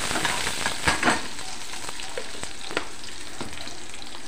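Ghee sizzles on an aloo paratha cooking on a hot pan, a soft steady frying hiss with a few sharper crackles and pops early on, heard close with no talking.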